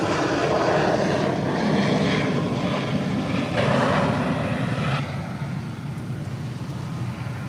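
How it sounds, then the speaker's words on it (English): A propeller aircraft comes down onto a runway, a steady loud engine roar that swells mid-way and then settles lower as it rolls out, with no talk over it. "That comes down hard."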